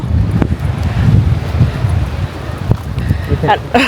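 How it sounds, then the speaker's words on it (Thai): Strong wind blows outdoors near a cafe in a city in cold weather. It makes a continuous, loud rumble with gusty buffeting against the microphone, and a person speaks over it. "ลมแรงอ่ะ"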